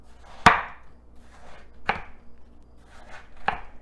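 A knife chops through the end pieces of a watermelon, cutting at an angle, with three sharp, distinct chops spaced about one and a half seconds apart. Each is close and clear, with no talking.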